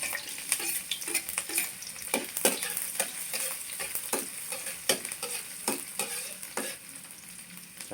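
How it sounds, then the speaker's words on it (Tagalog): Onion and garlic sizzle in a hot pan while being stirred, with steady frying hiss broken by repeated scraping strokes of a utensil, close and moderately loud. "mainit na po ang ating kawali. Lagyan na po natin ang sibuyas. Sunod po natin ang bawang."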